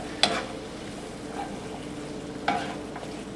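Bacon and onions stirred in a frying pan for a turkey and bacon meat sauce, with two sharp scraping stirs over a steady low sizzle, close and moderately quiet.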